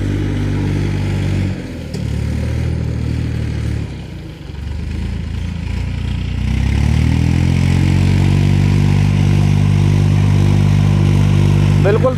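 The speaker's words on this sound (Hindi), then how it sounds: "वो ट्रैक्टर ने खिंचाई धांसू वाली कर रहा है बिल्कुल" A Massey Ferguson 5245 tractor pulls an 8.8 harrow with its discs buried deep in a farm field. The engine drones steadily and loudly nearby, deepening and strengthening partway through as it works under load.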